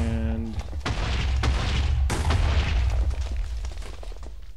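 In a video game, a deep booming explosion hits after a brief tonal sound, followed by a second burst and a long rumbling roar that fades out over a few seconds, loud and close.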